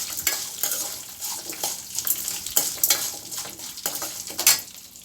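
Ginger, garlic and onion sautéing in a pan for radish chutney, with a soft sizzle beneath frequent scraping and clinking strokes of a spoon stirring against the metal, no voices.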